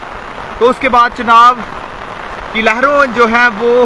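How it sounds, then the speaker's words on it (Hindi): Heavy, steady rain falls during flooding along the Chenab River, a constant hiss running beneath someone speaking Hindi. "शाम से ही लगातार तेज बारिश हो रही है।"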